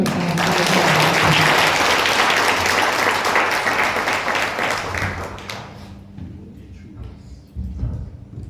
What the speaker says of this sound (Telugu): మనందరం బిగ్గరగా చప్పట్లు కొట్టి